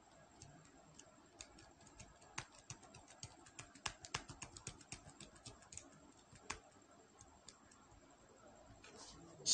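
A computer keyboard being typed on in quick bursts of sharp, close key clicks, with short pauses between runs, faint overall and no speech.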